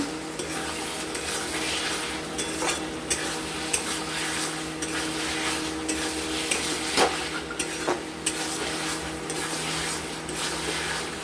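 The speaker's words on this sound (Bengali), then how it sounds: "আঁচটা আমরা বাড়িয়ে দেবো, দিয়ে আর একটু কষে নেব।" Small fish stir-fried in a pan over raised heat give a loud, constant sizzle and crackle throughout, with occasional spatula scrapes and taps against the pan and no voices.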